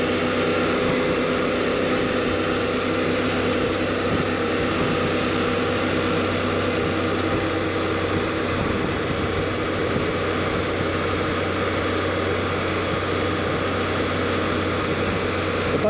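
A Suzuki motorcycle engine drones evenly while cruising in 4th gear at about 3,500 RPM, a constant hum blended with steady wind rush and no talking.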